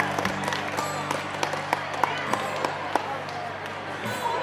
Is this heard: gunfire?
no